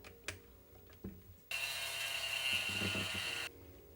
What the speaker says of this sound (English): A drill is then used to smooth them.